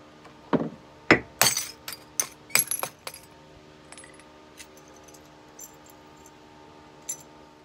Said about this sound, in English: We're just going to bash up this jar real good, throw the glass in there to flux the charge